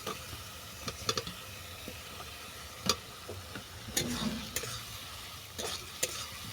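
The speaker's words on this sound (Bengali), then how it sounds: "ঢ্যাঁড়সটাকে ভালো করে মিশিয়ে নিচ্ছি" Fried okra stirred into spiced potatoes in a pan, a low steady sizzle broken by intermittent spatula clicks and scrapes, close by and with no voices.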